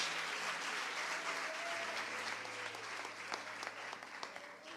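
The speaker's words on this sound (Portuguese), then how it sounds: "Vamos aplaudir ao Senhor por esse ministério transbordante." A church congregation applauds together, a broad, even wash of many hands clapping that thins slightly toward the end, with sharper individual claps standing out.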